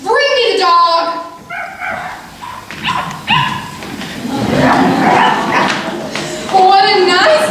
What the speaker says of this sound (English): What a nice little dog.